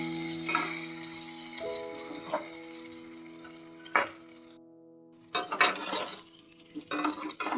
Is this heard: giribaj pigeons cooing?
no